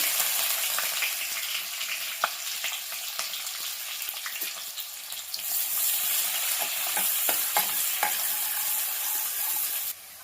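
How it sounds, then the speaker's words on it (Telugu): Sliced onion frying in hot oil in a pan with cumin, cardamom and a bay leaf for a Telugu-style ivy gourd masala curry, a steady close sizzle with occasional stirring clicks throughout. "ఆనియన్ ఫ్రై అవుతుంది కదండి"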